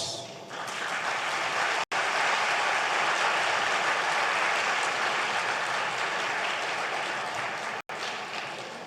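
Long, steady audience applause for Vande Mataram, a dense roar of many hands clapping, distant and fairly soft, cut by two brief dropouts and tapering slightly at the end.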